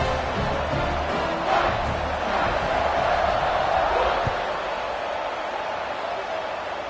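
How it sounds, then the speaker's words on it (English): A football stadium crowd at a UCLA vs Colorado game cheers after a scoring drive as the kickoff unit takes the field: a sustained, fairly distant roar of many voices under a commentator's voice. "this crowd is feeling themselves after that last drive"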